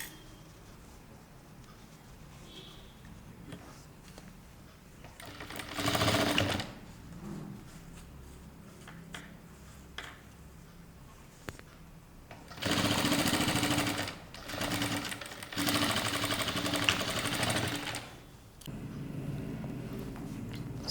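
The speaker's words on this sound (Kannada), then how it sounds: "ಇವಾಗ ಇದನ್ನು ಮೇಲಿಂದ ಈ ಥರ ಸ್ಟಿಚ್ ಮಾಡಬೇಕು." A sewing machine topstitching a fabric waistband runs in several bursts of steady, rapid mechanical chatter. Idle pauses between the runs carry a constant low background hum, with the longest, loudest stretches coming in the second half.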